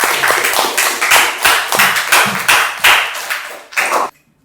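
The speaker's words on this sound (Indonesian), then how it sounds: "tepuk tangan buat Sarifah." Students in a classroom clap for a classmate in a fast, rhythmic burst of hand claps, loud and close, stopping abruptly after about four seconds.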